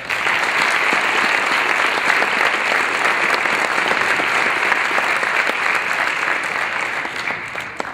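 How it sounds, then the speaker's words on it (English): Loud, sustained applause from a large audience at a school address honoring partners, a dense continuous patter lasting the full eight seconds with a slight tail-off at the end. "If we could give all of our partners a round of applause."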